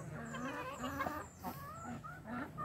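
Flock of chickens clucking busily while being fed a mix of rice bran, corn and hog grower feed on a farm, overlapping close clucks and calls throughout.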